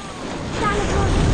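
Ocean waves rolling and washing onto a beach in Phuket, a steady broadband surf wash with wind noise, gradually swelling louder over a short stretch.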